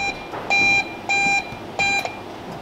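A Salva oven's Smart Touch Control panel sounds its alarm: three clear, loud electronic beeps of even length, spaced at a steady rhythm, with no talk.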